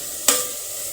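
Chopped tomatoes fry in a pan for dal, a soft steady sizzle broken by one quick scrape of a stirring spoon, close by and with no talking.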